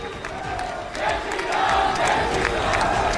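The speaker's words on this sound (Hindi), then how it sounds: "उन्होंने जय श्री राम के नारे लगाए" A crowd of students at a Delhi University centenary event chants in unison. The rhythmic group shouting swells louder partway through and stays dense and fairly close.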